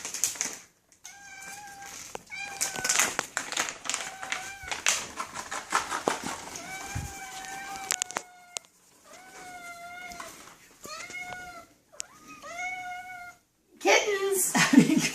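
Kittens mew repeatedly in high, rising cries, several clear meows in clusters close by, with light tapping and clatter around them and a louder burst of noise at the end.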